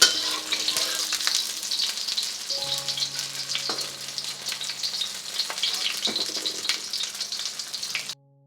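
Tofu fries in oil for Sri Lankan devilled tofu, a dense crackling sizzle that runs steadily for about eight seconds, then cuts off abruptly.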